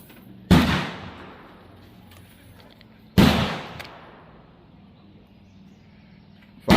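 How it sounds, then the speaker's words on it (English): A muzzleloader rifle fires 420-grain No Excuses sizing bullets at a 100-yard range: two sharp, loud booms a few seconds apart, each trailing off in a rolling echo, with a third shot starting just at the end. "we're gonna go through and shoot these from the smallest to the largest"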